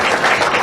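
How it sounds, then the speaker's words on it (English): Audience at a museum groundbreaking ceremony applauds, a dense wash of many hands clapping at once, steady and fairly loud. "It gets you a standing ovation."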